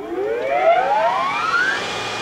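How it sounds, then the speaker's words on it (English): A Heald grinding machine spindle starts up, a loud rising whine that sweeps steadily upward in pitch over about two seconds above a low machine hum. "And we'll start the spindle."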